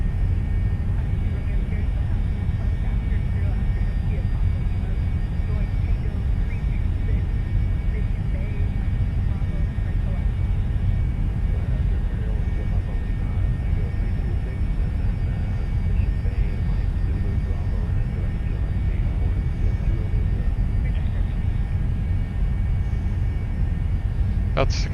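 The engine of a Citation II jet in the X-Plane 11 flight simulator gives a steady, even broadband roar from start to finish, with cockpit talk mixed in.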